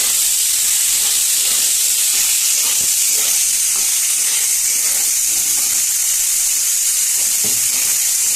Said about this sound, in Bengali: টমেটো আর ক্যাপসিকাম। এটা অল্প একটু নেড়ে নেব।